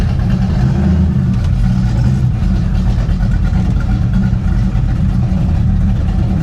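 A 1966 Chevy Impala engine runs with open exhaust, a loud, steady low rumble that holds throughout without distinct revs, close to the car.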